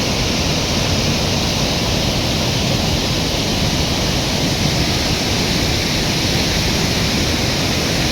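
A Canadian waterfall pours heavily, producing a loud, unbroken roar of crashing water that holds steady from start to finish with no voices.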